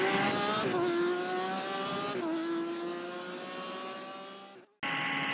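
A race car engine in a racing video game screams at high pitch, holding and shifting gears with brief dips, then cuts out abruptly before a loud burst of noise.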